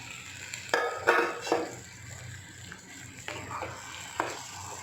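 Boiled urad dal and rajma stirred into frying masala in a pan: a few scraping, clattering spoon strokes over a soft sizzle, close and moderately loud, with quiet gaps between.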